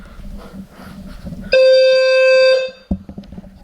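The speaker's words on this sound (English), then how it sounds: "Now over here by our fire alarm panel, up here we have a smoke detector right here." A fire alarm system on a new panel sounds after a smoke detector test, one loud, steady electronic tone lasting about a second, then a short burst, between quieter room noise.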